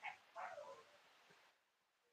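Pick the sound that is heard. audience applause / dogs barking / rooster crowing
dogs barking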